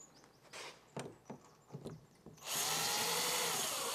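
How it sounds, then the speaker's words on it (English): A few knocks and handling clicks, then a power drill whirs loudly and steadily, close up, drilling a hole inside a VW Crafter van conversion, running continuously to the end. "let's drill the centre one there"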